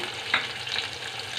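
Green chillies sauté gently in a hot pan, a soft steady sizzle with a brief brighter hiss of a stir partway through.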